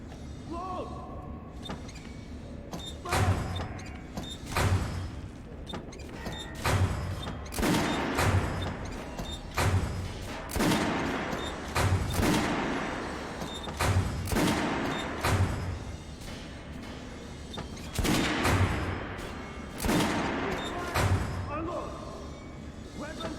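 A Kalash rifle fires at a shooting range in Metro Redux, with repeated loud bursts and single shots spaced every second or so through the stretch, over a rumbling background.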